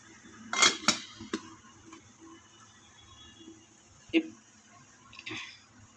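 A lid goes onto a metal idli steamer pot holding grapes, a couple of close clattering metallic clinks followed by a few quieter knocks and a brief scrape.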